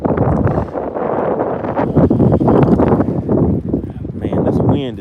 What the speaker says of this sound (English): Man, this wind is not giving me a break today.